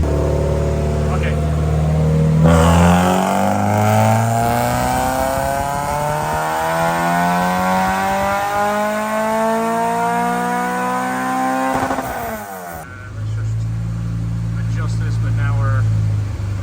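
A Honda S2000 engine revs up hard on a pull to about 5,000 RPM, its rising tone climbing steadily and loud before the throttle is let off and it drops back to a low idle rumble.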